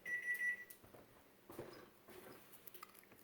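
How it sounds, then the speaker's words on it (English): A kitchen timer set for proofing yeast goes off with a short, quiet, high-pitched ringing beep, followed by faint kitchen clatter and soft handling noises. "Oh, there's our timer for our yeast. Our timer went off."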